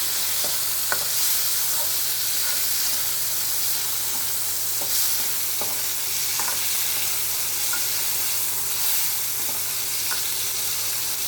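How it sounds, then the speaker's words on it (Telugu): Tomatoes frying in oil in a pan for a spinach chutney give a steady, close sizzle, broken by occasional sharp clinks and scrapes of a spoon stirring. "బాగా వేగిపోయాయండి టమోటాలు"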